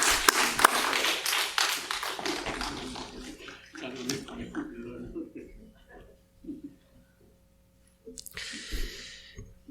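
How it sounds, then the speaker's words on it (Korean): A church congregation claps during a Sunday worship service. Dense applause opens the sound and fades within about two seconds, then someone speaks over a quiet room. "큰 박수로 다시 한번"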